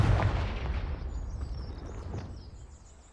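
A booming fire-blast spell explosion from the Hogwarts Legacy video game hits loud at the start, then its deep rumble decays slowly over a few seconds.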